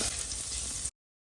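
Oil and butter frying in a hot pan, giving a steady, close hiss of sizzling that holds evenly for under a second before cutting off abruptly.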